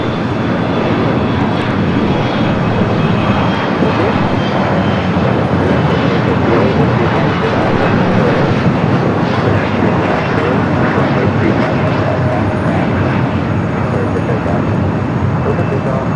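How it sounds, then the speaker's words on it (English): Delta Boeing 757 jet on approach to land at LAX, a loud steady roar of aircraft engines heard throughout, with someone talking over it. "the Delta 757 at 200. The flight coming in from Reagan National."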